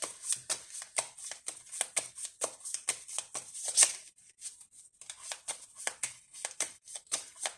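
Oracle cards handled and shuffled close by, a quick run of crisp riffling flicks in bursts, a brief pause, then more shuffling with soft papery snaps, quiet and without talk.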